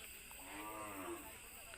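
A single long cow moo, drawn out and slightly rising, heard over steady background noise at a cattle market in Kalmakanda, Netrokona.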